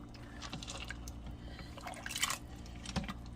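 A meatloaf mixture with chili beans and canned tomato sauce is stirred in a bowl, giving soft wet squelches and drips in an irregular rhythm, close and fairly quiet.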